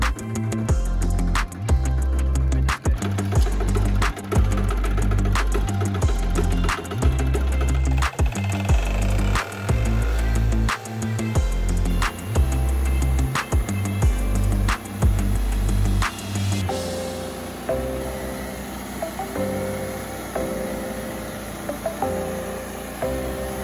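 A sawmill takes two inches off the side of a timber beam, giving a loud, rhythmic mechanical run with repeated pulsing strokes that stop midway before a steadier motor hum carries on alone.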